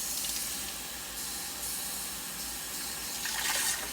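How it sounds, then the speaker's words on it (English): Water pours into the tank of a Lefant M571 robot vacuum mop, a steady, close hissing stream that shifts in pitch as it fills, with a brief splashy burst near the end. "fill it up with some water"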